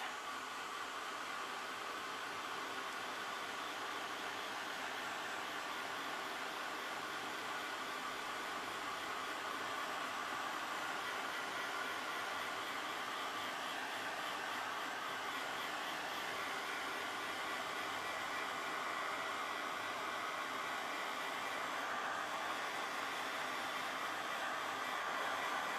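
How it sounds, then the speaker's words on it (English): A hair dryer blows steadily on a dressform to dry fresh paint, a constant close airy whoosh that runs without a break and with no talking. "So I'm just going to dry this one off."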